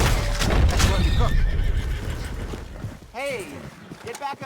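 A horse neighs in the Red Dead Redemption 2 video game, with soft hoof clip-clop and background game audio. One loud whinny comes near the end, followed by a shorter second one.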